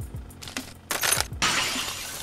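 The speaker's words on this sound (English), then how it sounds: "It cracks 2 times and then it shatters." A glass track platform in an Unreal Engine 5 game gives way beneath a driving car, cracking twice in sharp bursts before a loud crashing shatter, all over a low engine drone with no voices.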